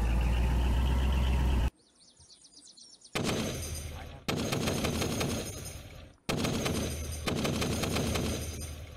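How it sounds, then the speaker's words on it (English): Gunfire in a zombie survival video game: loud, rapid bursts of shots in several volleys, broken by short pauses, with faint bird calls in the background. "We are being shot at."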